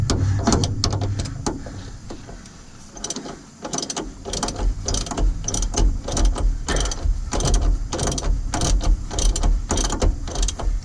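A ratchet works a sway bar bushing bolt on a 2000 Ford F150 in quick clicking strokes, with a brief pause before the steady rapid ratcheting resumes up close.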